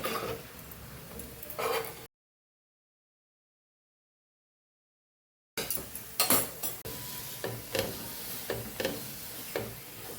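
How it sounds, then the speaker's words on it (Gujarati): Methi masala bhakhri roasting on a low-flame pan: a soft, steady sizzle with light ticks and scraping as it is turned, broken by a stretch of silence midway. "આવી રીતે આપણે બધી ભાખરીને શેકી લેવાની છે"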